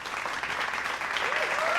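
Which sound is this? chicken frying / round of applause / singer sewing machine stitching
round of applause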